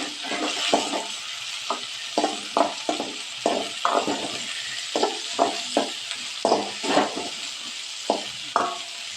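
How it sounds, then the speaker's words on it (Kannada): Chopped tomato frying in a pan for a village-style beans palya: a continuous hiss of sizzling oil broken by repeated scraping and clinking strokes of a spatula stirring the mixture, close and fairly loud, with no talking. "ನೆಕ್ಸ್ಟ್ ಟೊಮೆಟೊ ಹಾಕಿಬಿಟ್ಟು ಅದನ್ನು ಫ್ರೈ ಮಾಡಬೇಕು"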